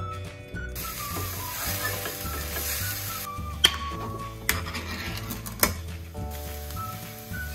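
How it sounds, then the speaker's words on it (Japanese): Garlic and green onions stir-frying in oil over low heat, a soft continuous sizzle with occasional scraping stirs and a few sharp utensil taps, fairly quiet. "弱火で炒めていきます"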